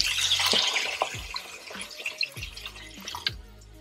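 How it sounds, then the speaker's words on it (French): Water splashes and drips into a pot of browned chicken in short bursts, with a few light clinks and pours, close up and moderately loud. "on va venir rajouter de l'eau"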